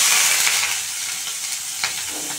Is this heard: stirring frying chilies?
yes